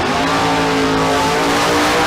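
A Chevelle drag race car launches hard at Famoso Dragstrip during bracket racing, its engine roaring loud and close with rising harmonic tones throughout, no voices over it.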